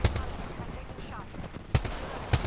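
Gunfire in a shooter video game: sharp, loud individual shots, one at the start and two more spaced out near the end, over a low background of game sound.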